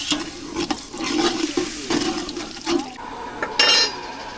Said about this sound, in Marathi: आता आपण थोडा थोडा पाणी घालू आणि रस्सा बनवू.